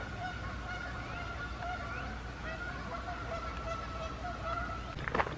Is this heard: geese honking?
yes